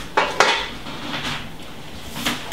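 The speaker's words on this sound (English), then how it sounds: "And we're gonna get our wok onto the heat over here." A wok is set down onto a stove burner, giving two sharp metallic clanks close together near the start and a lighter clatter of metal toward the end, over a steady low kitchen background.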